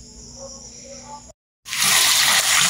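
Tap water runs and splashes as Kent Gold Plus UF membrane and activated carbon filter parts are rinsed with clean water, quieter at first, then a brief pause before a loud, steady gush.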